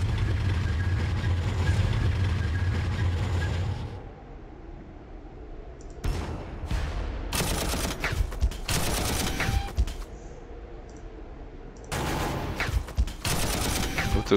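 Cannon fire from Warhammer 40k Armageddon, a turn-based strategy video game: a low rumbling opening gives way to a series of loud, sharp broadband blasts in uneven bursts, with brief gaps between salvos.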